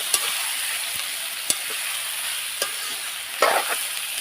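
Capsicum sizzles steadily in a hot pan, broken by a few sharp scrapes and taps of a spatula as it gets stirred, close by with no talking.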